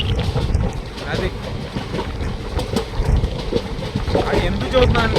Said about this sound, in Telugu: ఒకటే పట్టాల మీద మన ట్రైన్ వెళ్ళిపోయాక దాన్ని ట్రాక్ చేంజ్ చేస్తారు, ఆగిన ట్రైన్ వెళ్ళిపోతుంది.